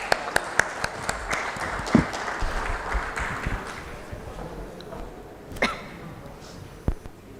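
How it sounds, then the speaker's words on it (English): Audience applause for panelists after a panel discussion on Indian equity markets, starting with scattered sharp claps that thin into a quieter, fading patter. "Let's give them once again a huge round of applause."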